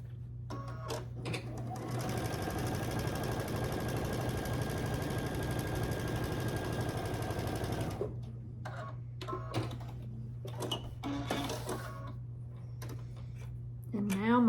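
A sewing machine stitches pieced quilt fabric for a block-of-the-month quilt, running in one steady loud burst for about six seconds, then stopping, followed by scattered handling clicks and rustles of fabric.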